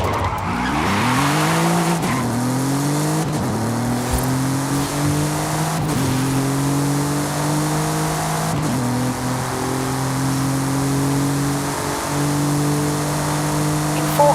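Golf GTI race car in Forza Horizon 5, its engine loud and close as it revs up through repeated gear shifts, with steady tyre and road noise throughout.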